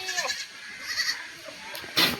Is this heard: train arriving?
no